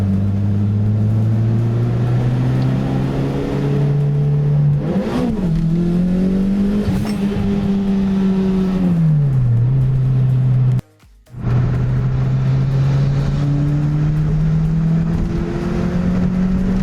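Turbocharged Toyota MR2 Spyder with a 2ZZ-GE engine cruising on the road, heard from inside the cabin as a droning engine hum that rises and falls with throttle over steady road noise, loud and close, with a brief dropout midway.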